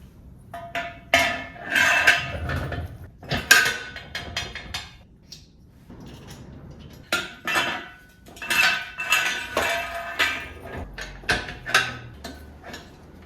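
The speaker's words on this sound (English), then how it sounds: "we'll first put this slider on the leg, then we'll insert our 2 leg pins and secure it with a cotter pin" Metal leg pins and a cotter pin clink and clatter as they are fitted into the steel legs of a Harbor Freight engine crane, sharp close metallic knocks in irregular bursts, no talking.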